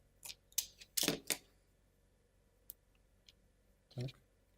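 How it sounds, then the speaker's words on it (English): Scissors cutting a rubber band during assembly of a Ugears card holder: a quick run of close, sharp snips and clicks, then a few isolated ticks and one last louder snip. "To do that, cut the rubber band first"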